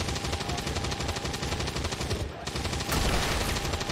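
Rapid chain-shot gunfire from XCOM 2: Long War of the Chosen, a dense, continuous automatic burst that swells louder near the end, with a brief dip midway.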